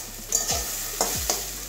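A spatula scrapes and stirs finely chopped banana stem fry in a dry pan, making several distinct strokes over a low sizzle, close and clear.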